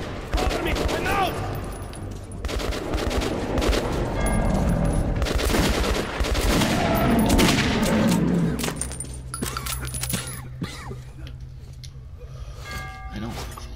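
Heavy gunfire in the game Metro 2033, with sustained volleys of shots and clattering mechanical bursts for most of the stretch, easing off near the end, while people talk over the shooting.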